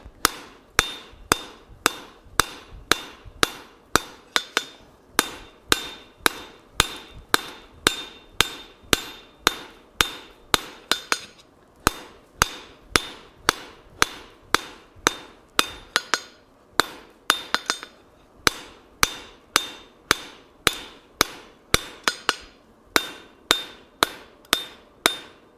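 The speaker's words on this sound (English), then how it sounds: "we are going to hammer straight down with half on, half off blows" Steady, ringing hammer blows strike hot steel on an anvil roughly twice per second, half-on, half-off blows drawing out material while forging, a long even rhythm of sharp clanging impacts.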